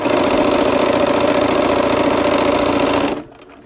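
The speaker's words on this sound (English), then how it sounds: "sew this last block on" A sewing machine runs steadily for about three seconds, stitching a quilt block onto a row for a harvest-themed block-of-the-month quilt, a loud even mechanical hum that stops abruptly near the end.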